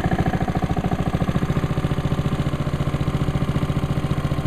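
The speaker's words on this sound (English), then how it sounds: "And she's running. Just check out that smooth idle." A 2015 Honda HRR216 lawn mower engine idles steadily, a loud close-up putter with an even, rapid pulsing rhythm and no talking.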